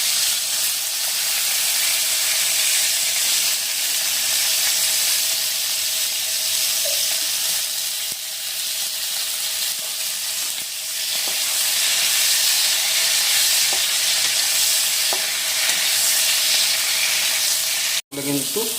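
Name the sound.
pointed gourd (potol) frying in hot oil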